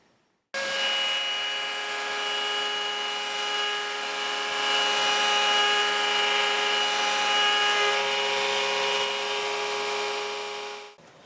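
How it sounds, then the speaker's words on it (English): A router cleaning out and deepening the neck pocket of a custom Telecaster guitar body, running as a loud, steady high whine for about ten seconds with a shift in pitch partway through, then spinning down. No one speaks. "we can just use our router and we'll come in and clean up the whole pocket and go down to the depth we need"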